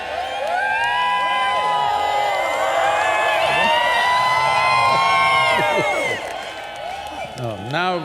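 A big audience at a spiritual gathering cheers and shouts with the fervour of a Mahashivratri festival crowd, a loud sustained roar of whoops and cries that fades near the end, where a voice comes through.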